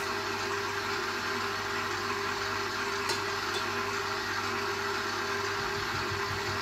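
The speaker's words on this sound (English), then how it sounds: "we're just gonna mix this again until our egg is well incorporated" A Kenwood stand mixer mixes cookie dough with an egg in a continuous motor whir and hum, steady and fairly close, with no voices.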